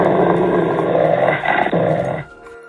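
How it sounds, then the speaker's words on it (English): A dog growls in a deep, rumbling snarl, loud and close, holding steady for about two seconds before cutting off abruptly. "He growled at the dog in the water."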